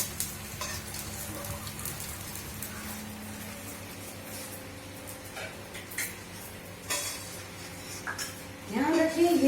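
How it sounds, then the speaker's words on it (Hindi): Dry fruits and gond roast in a pan for meva paag: a continuous soft sizzle and frying crackle with occasional stirring scrapes and clinks against the pan, with a voice talking over it. "थोड़ा थोड़ा करके आप डालेंगे तो आप ज्यादा अच्छी तरह भून पाएंगे।"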